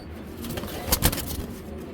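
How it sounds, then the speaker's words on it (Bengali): A big tiger grizzle racing pigeon coos softly nearby, a couple of brief low calls over steady background noise, with no talking. "দর্শক এখানে দেখতে পাচ্ছেন একজন বিগ সাইজের টাইগার গিরিজেল কবুতর"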